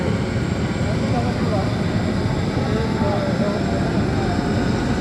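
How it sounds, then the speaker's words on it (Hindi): A helicopter engine runs up with a loud, steady, broadband roar and whine that fills the whole stretch, heard close by at an outdoor gathering. "हेलीकॉप्टर लगभग स्टार्ट"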